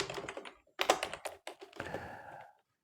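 Bursts of close keyboard tapping as text is entered into an Excel spreadsheet, quick clustered keystrokes with short pauses, ending in a longer run before falling silent.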